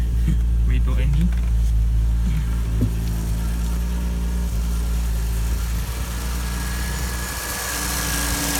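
A rebuilt Ford Granada/Consul engine runs steadily at idle with a low, constant rumble and some vibration, close by, with faint handling noises over it.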